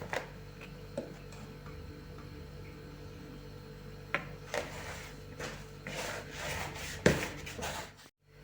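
Soft rubbing and squishing as cheese dough for doughnuts is worked by hand, with occasional knocks and scrapes against a bowl, fairly quiet and close.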